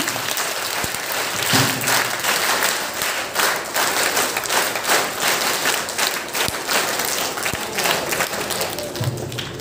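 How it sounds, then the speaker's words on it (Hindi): Audience applause at a school safety workshop for a child, a steady wash of many hands clapping throughout at moderate loudness, with brief voices underneath. "तो एक बार आप इस बच्चे के लिए ताली बजा दीजिए।"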